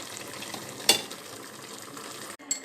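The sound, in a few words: sauce simmering as celery and stock cube are added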